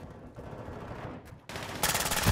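Fennec 45 submachine gun firing in Call of Duty Modern Warfare II, a steady stream of gunfire with a sudden loud, rapid burst near the end, close and harsh.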